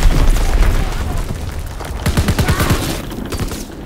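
Azon bomb exploding in the World War II shooter Call of Duty WW2, a heavy boom with rumbling blasts and a rapid run of thumping impacts, loud and close.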